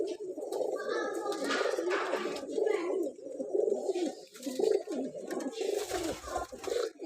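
Pigeons, kept breeding birds, coo steadily in a continuous low murmuring chorus close by, with a human voice faint underneath.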